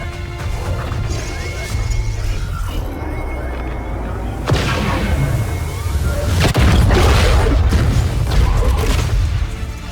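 Heavy cannon hits slam into a ship in XCOM 2, a run of loud booming crashes and metallic smashes, the strongest impacts near the middle and end, with rumbling debris between them.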